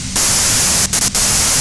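Radio white noise static from the video game Disco Elysium comes as a loud, dense hiss that switches on abruptly after a brief quiet start and drops out twice in short gaps near the end.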